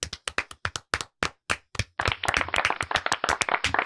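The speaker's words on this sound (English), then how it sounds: "Everybody, can we get an unlicensed clap for Tina?" A group claps hands, starting with a few separate sharp claps in a loose rhythm, then swelling into a dense burst of overlapping clapping, close and fairly loud.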